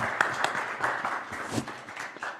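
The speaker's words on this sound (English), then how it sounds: "We could clap." A panel discussion audience claps together at the close of the questions, a steady spread of hand claps at moderate volume lasting a couple of seconds.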